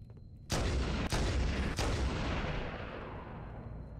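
Gunshots in a video game battle: three heavy, booming shots fire in quick succession, loud and close, each followed by a long echoing rumble that slowly trails off, with no talk.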